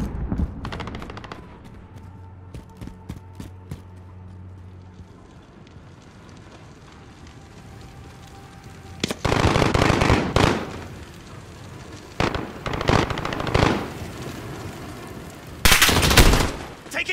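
Gunfire in the Call of Duty: Modern Warfare video game: sporadic shots early, then loud bursts of automatic fire and heavy blasts in the second half, with a brief voice mixed in.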